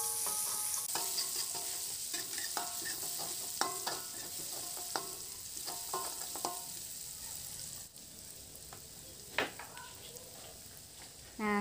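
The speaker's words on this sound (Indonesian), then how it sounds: "Kita tumis bawang putih tadi yang sudah aku haluskan" Ground garlic sautéing in hot oil, a steady bright sizzle with repeated scraping stirs of a utensil through the pan, close and continuous for the whole stretch.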